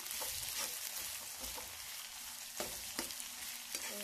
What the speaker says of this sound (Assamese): পিয়াজখিনিটা ভাজি লম